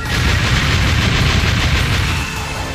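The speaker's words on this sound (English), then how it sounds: "Fire style, fireball jutsu!" A fire style fireball jutsu attack in a Naruto mobile game, heard as a loud, continuous roaring blast of rushing flame with a deep rumble, steady throughout and easing slightly at the end.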